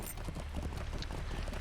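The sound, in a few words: horse hooves clip-clopping in the video game LOTRO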